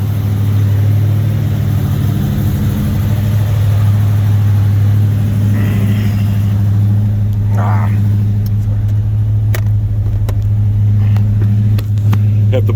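A 1976 Oldsmobile Cutlass Salon with a 455 V8 runs steadily up close, its deep low drone constant throughout as the car pulls away, with occasional clicks and rattles over the engine.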